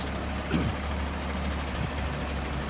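A semi-trailer truck backs up slowly, its engine idling in a low steady rumble with a brief hiss near the start and a soft knock later, no one speaking.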